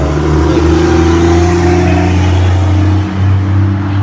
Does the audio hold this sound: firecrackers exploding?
no